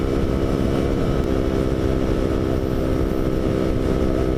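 A KTM 125 motorcycle runs steadily in cold weather in the Aisne, its engine droning loud and close with a constant pitch and no speech.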